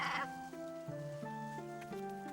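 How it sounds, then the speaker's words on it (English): Sheep bleat in a short, wavering call with sliding pitch, fairly faint and unaccompanied by talk. "Once there was a shepherd with 100 sheep, but he lost one of them."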